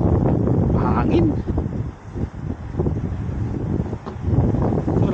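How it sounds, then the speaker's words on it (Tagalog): Strong winter wind in South Korea buffets the microphone with a continuous low roar and gusty rumbling, steady and close throughout, with faint traces of voices underneath. "Hangin nga lang."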